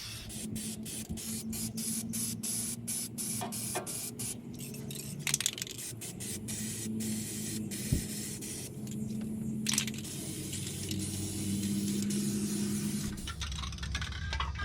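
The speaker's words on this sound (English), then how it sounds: "Now I'm spray painting the back side of the elbow." Steady hissing spray paint bursts on the back side of a 2007 Freightliner Columbia truck's exhaust elbow, repeated in short pulses over a low background hum, close to the microphone with no talking.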